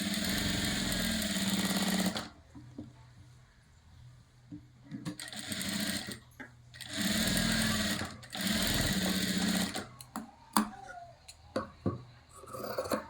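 An electric sewing machine stitches a katori blouse in fast, buzzing bursts of a few seconds each, separated by quieter pauses with small handling clicks and rustles, close and clear.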